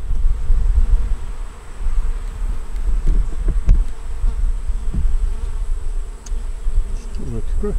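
Dense, steady buzzing of many honey bees crowding around an open double-deep five-frame hive with a honey super, close and continuous for the whole stretch, with a few faint clicks and knocks from handling the frames.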